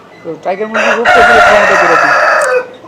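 A tiger chicken rooster crows once, loud and close, a long strained cock-a-doodle-doo following a few short clucks.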